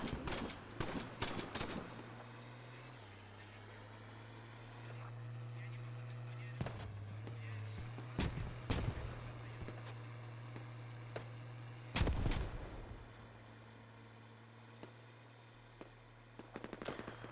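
Squad video game combat: bursts of gunfire strike an armored vehicle, with sharp cracks clustered early, around eight seconds and at twelve seconds, over a steady engine drone and background battle noise.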